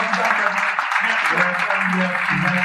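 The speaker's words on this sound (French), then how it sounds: "d'applaudir à nouveau Monsieur Philippe Simot" An audience applauds a speaker at an event, with steady, moderately loud clapping running throughout with no voice over it.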